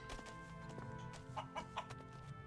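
Chicken clucking in the fantasy video game Risen, a few short clucks over a steady, faint background hum of game music and ambience, with no voices.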